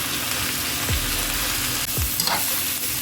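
Vegetables with spinach, fresh basil and cheese sauté in a pan, a steady close sizzle with a few scraping stirs, no voices.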